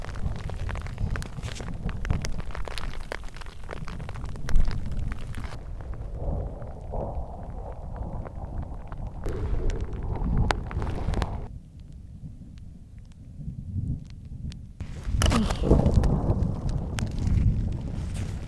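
Thunder from a lightning storm directly overhead, deep rumbling rolls with a sharp crack near the middle and another burst late on, heard close and loud amid wind noise on the microphone.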